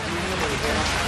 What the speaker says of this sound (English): As you say, Michael, some pretty heavy rain. It's really getting more intense